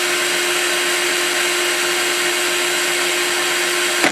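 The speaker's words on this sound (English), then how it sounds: "Yeah, that's the high speed on the drill." A loud electric drill, used to free up a Singer 201-2 sewing machine's potted motor, whirs at high speed in one steady, continuous whine, then cuts off abruptly at the end.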